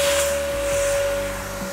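A BlitzWolf BW-AR182 cordless vacuum cleaner runs continuously with a steady motor whine and airy suction hiss while pulling at a piece of plastic, close and unbroken.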